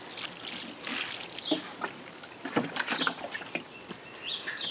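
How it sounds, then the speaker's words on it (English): Water trickles and splashes unevenly onto soil in a container of freshly sown bell pepper seeds, in short bursts of patter and dribble at close range, with faint bird calls in the background. "water it in."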